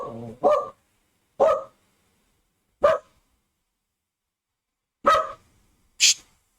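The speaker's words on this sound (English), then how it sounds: "That's my dog." An old, grumpy dog barks five times indoors, single gruff woofs spaced unevenly over several seconds, fairly close and clear against near silence.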